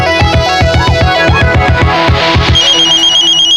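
A mobile phone rings with a loud, repeating electronic melody of quick pulsing tones that then shifts to a higher sustained pattern, heard close and alone without talk.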